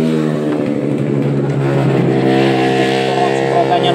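A Honda Beat ESP scooter engine running during a fuel injector test on a bike that will not start and shows a blinking check-engine light, a steady, loud close-up idle hum with a slight rise in revs partway through.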